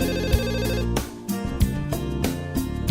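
A telephone ringtone plays a repeating electronic melody in loud, regular bursts, with clear harmonic tones and brief gaps between phrases.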